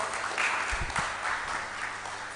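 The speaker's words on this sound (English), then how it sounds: "another round of applause" An audience applauding after a presentation at a policy dialogue event, short steady clapping of moderate loudness.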